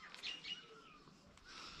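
A small bird gives a few faint, quick chirps near a farm field, soft and somewhat distant in a quiet outdoor setting.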